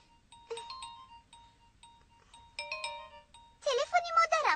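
A phone rings with repeated electronic tones, followed by a burst of busier, warbling chimes near the end.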